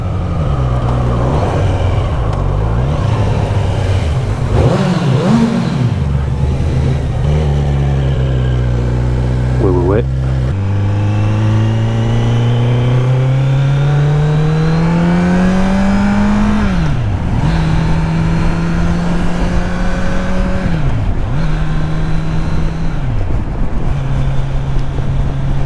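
A Kawasaki Z900 motorcycle engine on the road, loud and close, rising and falling through repeated accelerations and gear changes over a constant wind rush.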